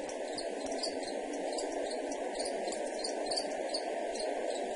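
Crickets chirping in a continuous, steady drone of rapid high trills, with no voices and no gaps throughout.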